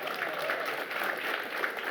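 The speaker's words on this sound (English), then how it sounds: "Claps for the ally." Brief burst of audience applause at a town hall, steady clapping from a crowd at a moderate, even level.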